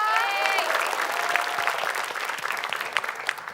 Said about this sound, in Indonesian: Boleh beri tepuk tangan untuk tim A.